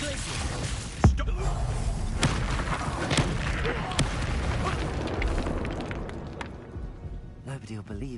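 Confringo spell blasts in the game Hogwarts Legacy: a heavy boom hits early, then several lighter explosive bursts follow over a dense, rumbling bed of combat effects and voices.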